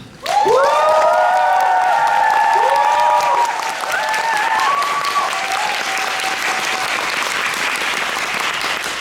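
Audience at a curtain call of the musical The Devil: Eden bursts into loud cheering and sustained applause, with high shouts and whoops riding over dense clapping that stays strong and near for the whole stretch.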